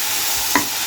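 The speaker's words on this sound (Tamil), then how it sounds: "ஹை ஃப்ளேமில் வச்சு நல்லா இதை பரட்டி விடுங்க." Cabbage stir-fried on high flame, a steady broadband sizzle with one brief spatula scrape or clack near the end, close and moderately loud, no voices.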